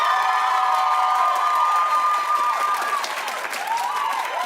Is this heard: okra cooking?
no